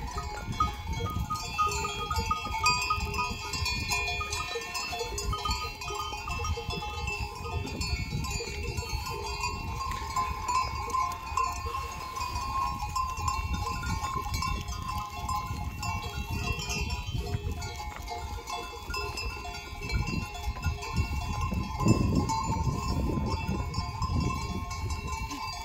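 Goats in the Sierra de Gata crowd in to drink, with steady bleating and clanking cowbells mixing into a dense, continuous farmyard din throughout.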